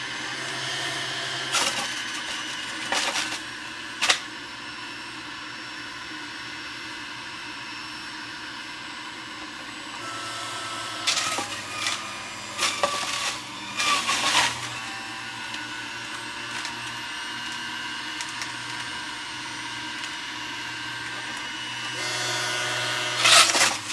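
Breville JE98XL juicer running at low speed as bok choy is fed through, a steady motor whine with several sharp grinding bursts as the greens are pressed in, fairly close and loud.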